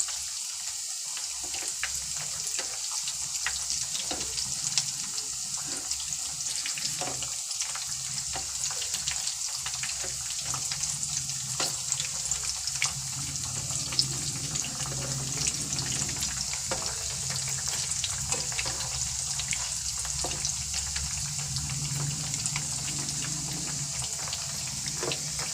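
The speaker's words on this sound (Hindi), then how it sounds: "देखिए ज़बरदस्त फ्राई हो रहे हैं ये धीमी आंच पे।" Star-shaped chicken nuggets fry slowly in oil over low heat, giving a continuous, fairly quiet crackling sizzle that holds steady throughout.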